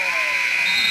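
A basketball game buzzer at the end of the half in a boys' high school game, a loud sustained electronic tone held steadily throughout the brief clip.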